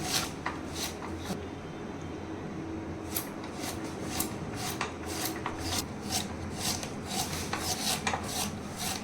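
Onions sliced lengthwise into strips with a knife for a Malvani coconut masala, giving a quick series of crisp, evenly spaced cuts close by with no talking.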